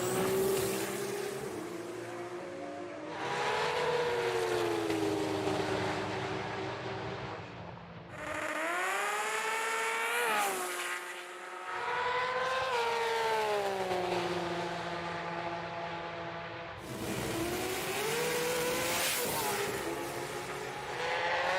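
A black S15 race car with a 3.2 litre engine runs hard, its engine note rising and falling through repeated gear changes, loud with a few short pauses between pulls.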